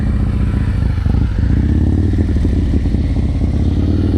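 A motorcycle rolls slowly through a low-speed practice exercise, its engine a steady low rumble close by, with faint clatter over the idle and no voices.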